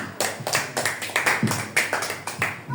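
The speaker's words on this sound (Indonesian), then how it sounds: "Tepuk tangan." A church congregation at a Christmas Eve service claps in a brisk, regular rhythm, roughly four claps per second, close and clear with no talking over it.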